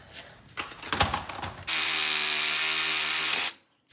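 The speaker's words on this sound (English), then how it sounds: "we'll just literally cut that and sawzall it off" A Sawzall reciprocating saw cutting off an old suspension tab on an MR2 mid-engine drift car: a loud steady mechanical whine with a strong hum runs for about two seconds after some clanking handling sounds, then stops abruptly.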